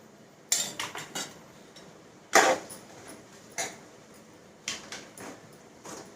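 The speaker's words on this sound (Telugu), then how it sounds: "ఇందులో కారం వేద్దాం. కారం 2 స్పూన్ల కారం వేయాలి." A metal spoon clinks against a curry pot as chili powder goes in: a handful of sharp, quiet taps spaced irregularly, with one louder knock midway and near-silence between.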